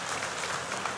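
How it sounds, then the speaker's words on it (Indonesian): Church congregation applauding in worship, a dense, steady clatter of many hands filling a large room, moderately loud and continuous throughout the brief moment. "Kasih tepuk tangan untuk Yesus."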